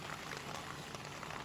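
Food bubbling in a pot on a camping stove inside a tent at a wild camp in the Peak District, a close, steady, soft simmer with no voices.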